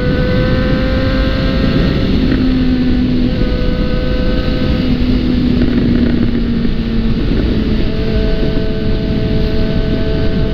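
A Suzuki GSX motorcycle accelerates on the road, its engine rising through the gears in a loud, sustained whine and exhaust drone, with rushing wind noise throughout and no talk.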